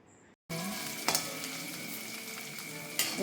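Green chillies sauté in a pan for a Kerala-style lemon pickle, giving a loud, steady sizzle that starts abruptly after a short quiet lead-in, with a couple of brief stirring scrapes and no talking.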